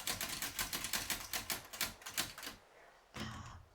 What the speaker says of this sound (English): typewriter set up.